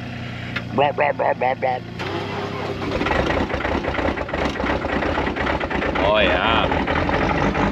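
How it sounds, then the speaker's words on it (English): Old John Deere equipment engine cranking at about 26 degrees, a few short chugging cranks, then catching into a steady rumbling idle, with someone talking briefly over it. "It's like 26 degrees, so we'll see how old Johnny Deere starts."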